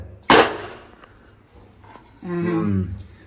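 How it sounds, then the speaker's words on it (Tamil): A brownie cake tin dropped into a preheated pressure cooker lands with a single loud, sharp thud, followed by a quieter stretch and then a voice speaking. "இதுல தூக்கி தொபீர்னு போட்டுடலாம். தொபீர்னு தான் போடணும், போடு."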